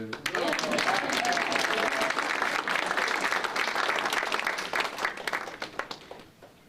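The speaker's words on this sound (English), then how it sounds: "Clap for her." An audience applauds a performer doing a level 3 select performance at a public meeting. The clapping is dense and sustained, then thins out and fades at the end.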